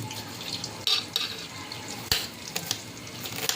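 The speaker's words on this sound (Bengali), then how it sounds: "মুরগি মাংস ভেজে রান্না করছি ওই জন্য আলাদা টেস্ট হবে বলে ভেজে দিচ্ছি" Chicken pieces frying in a pan, a steady broadband sizzle and crackle with a few sharper spatters and clinks of a utensil against the pan, close and fairly quiet, no talking.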